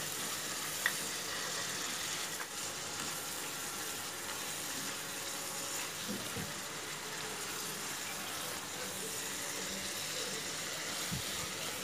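Chili and cumin powder being stirred into onion-garlic paste frying in a pan for Bengali chicken rezala, a steady close sizzle with faint scraping of the spoon throughout.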